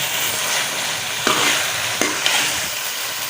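Crushed mint being stirred into a green chicken qorma in a pan, a steady soft scraping and sizzle with a couple of sharper spoon knocks, close and alone with no talking.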